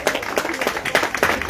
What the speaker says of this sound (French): Allez, des applaudissements pour Nolan, Julien et Mathis.